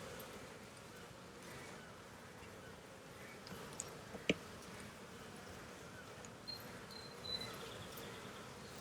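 Honeybees hum softly from an opened beehive, a faint steady buzz with a few brief louder passes of individual bees close by.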